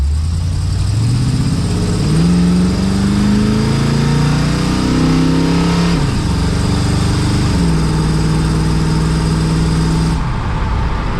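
A Pontiac Firebird engine drones loudly and steadily from inside the car while driving, its pitch climbing through the gears and dropping at shifts, with no talking over it.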